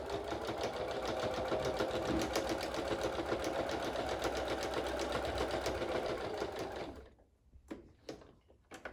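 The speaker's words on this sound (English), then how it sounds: "I'm just going to run a stitch, a line of stitches through the headband." A sewing machine runs a steady line of stitches through a quilt headband, whirring loudly and continuously for about seven seconds before stopping, followed by a few faint handling clicks.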